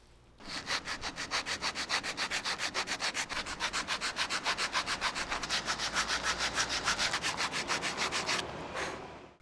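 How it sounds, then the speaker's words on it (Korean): Sandpaper rubs back and forth over a dried leather headband for a Marshall Mid BT headphone, a steady rapid rhythm of close, loud scratchy strokes continuing for several seconds before stopping. "건조시킨 다음에 사포질 합니다."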